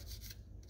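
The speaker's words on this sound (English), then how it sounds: "lightly sanding. I'm not putting hardly any pressure on there at all" Sandpaper rubbed by hand with very light pressure over the wooden handguard of an SKS rifle stock, a soft continuous rasping in short back-and-forth strokes, close and quiet.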